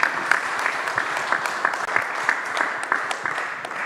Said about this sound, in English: let's give one more big round of applause for Victor Bologan and Chess ID